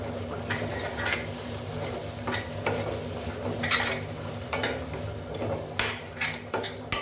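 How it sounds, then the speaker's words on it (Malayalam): Chilli powder and masala for a moong dal sambar sautéing in a pan, with a steady close sizzle broken by repeated sharp scrapes and clinks of a spoon stirring against the metal. "നന്നായിട്ടൊന്ന് വഴറ്റാം."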